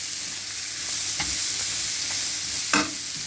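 Vegetables for a prawn, chicken and noodle fry stir-frying in a hot pan, a steady close sizzle with a few sharp scrapes and clatters of a utensil against the pan.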